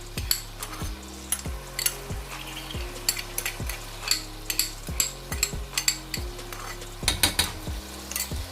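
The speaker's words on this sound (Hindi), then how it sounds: "ऐड करने के बाद हम इसको अच्छे से मिक्स कर लेते हैं।" Pasta being stirred and mixed with vinegar and chili sauce in a pan, a spoon scraping and knocking against the metal in a steady rhythm of repeated strokes over a continuous sizzle, close and loud with no talking.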